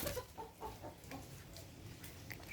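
Faint chickens cluck in a few quick bursts, then a quieter stretch follows with soft background noise.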